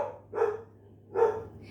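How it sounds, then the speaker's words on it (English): A dog barks twice in a steady rhythm, each a short, moderately loud woof at mid distance, over a low background hum in an otherwise quiet room. "You hear my dog?"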